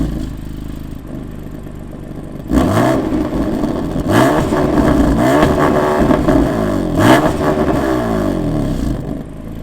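A BMW F80 M3 engine is revved hard several times, climbing from idle into sharp, loud rises with a throaty mechanical edge, then settling back toward idle between blips.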